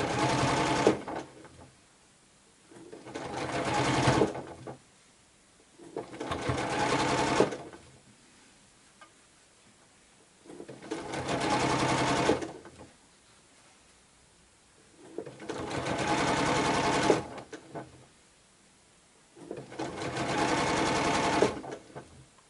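A sewing machine stitching curved fabric seams for an improv-curve fan quilt block, running in six steady bursts of two to three seconds with quiet pauses between, close and fairly soft.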